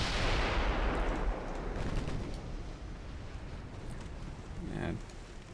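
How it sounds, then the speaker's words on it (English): In a naval warfare game, a torpedo launches at a cruiser with a loud, close burst of rushing noise that slowly fades into a steady rumble, then a brief whooshing swell near the end. "Let's fire a torpedo at them."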